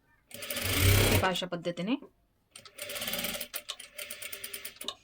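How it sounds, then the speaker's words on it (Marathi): A sewing machine runs a double seam on a princess blouse in two bursts of rapid whirring stitching, with someone speaking briefly in the gap between them. "आता ह्याच्यावरती परत एकदा आपल्याला इथे डबल शिलाई देऊन घ्यायची आहे."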